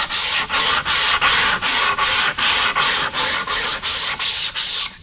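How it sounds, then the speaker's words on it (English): Steady, rhythmic back-and-forth rasp of a sanding block with 80-grit paper on fiberglassed plywood, about a dozen even strokes, close and loud with no talking. "sometimes just a little sanding block, little 3M block with some Velcro and 80 grit paper"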